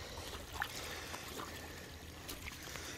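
Water runs steadily through a gold prospecting sluice outdoors in West Virginia, a faint continuous trickling and splashing flow with small bubbling accents.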